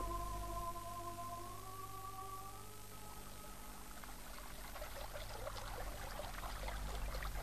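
River water flowing and trickling in a valley below a hermitage garden at dusk, staged as a radio play effect: a steady, close wash of babbling water that grows brighter and more splashy partway through, with no voices.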